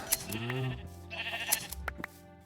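Sheep bleat in a Minecraft-style survival game, a few wavering cries close by, followed by light game clicks and thuds.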